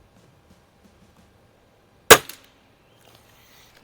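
A single sharp crack from a Cometa 300 .177 break-barrel spring air rifle at a shooting range, sudden and loud with a short ringing tail, set in quiet surroundings.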